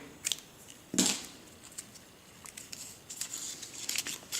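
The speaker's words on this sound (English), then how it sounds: "then you cut this corner out here" Scissors cutting a corner out of folded material for an indoor hydroponic watermelon setup, a few quiet snips and crinkles with a sharper cut about a second in and rustling afterward.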